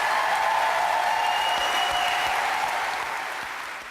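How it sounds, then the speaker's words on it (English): A crowd applauds loudly and steadily, a dense wash of clapping that tapers off slightly toward the end, with no talking over it. "Give him a round of applause."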